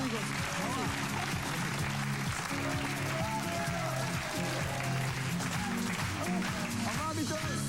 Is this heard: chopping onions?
no